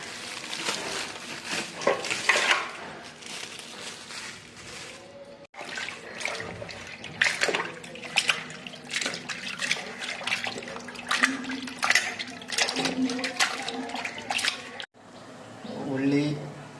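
Raw mutton being washed by hand in water for a home-cooked curry, with steady splashing and trickling close by, broken by brief pauses and accompanied by occasional talk.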